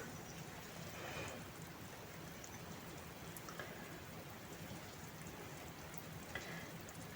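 Steady crackling sizzle of potato pancakes with cheese filling frying in a hot pan, a dense, even spatter that continues throughout with no talking.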